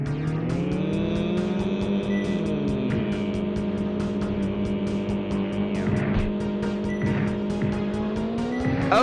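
A race car in the Street Racer video game roars with a sustained, rising engine tone as the turbo kicks in, joined by tire squeal and rhythmic ticking effects, loud and constant throughout.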